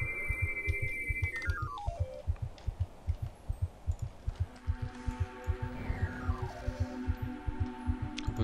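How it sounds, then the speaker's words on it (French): A steady thumping heartbeat in the video game Black & White 2, regular double pulses repeating throughout over a droning hum, with descending chime-like game tones layered on top. "Oh, les battements de cœur, si ça pouvait s'arrêter, quoi, ça serait tellement bien."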